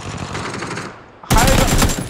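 Bursts of rapid gunfire in a first-person shooter game, a sharp loud volley erupting after a brief lull and continuing densely, with players' voices faintly in the mix.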